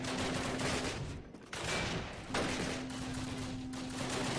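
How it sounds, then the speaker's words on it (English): Flak 88 cannon firing in the Call of Duty video game, heavy booming reports in quick succession with short gaps, loud and close, with no talk over them. "Unlimited ammo on a flak 88 cannon."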